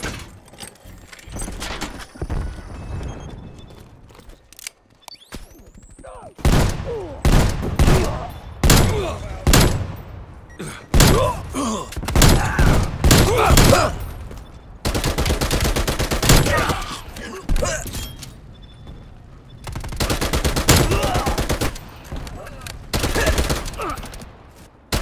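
Loud gunfire from a Call of Duty Demolition match on the Rush map, with a Tec-9 in play: rapid bursts and long automatic volleys that crowd together, nearly continuous at times, with short gaps between.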